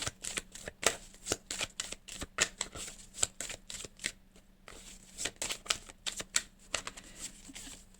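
Tarot cards shuffled by hand in a run of irregular crisp snaps and riffles, near and soft, with a faint low hum beneath and no talking.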